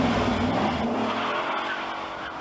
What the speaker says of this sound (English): as you can hear from this gorgeous exhaust note, it delivers everything it promises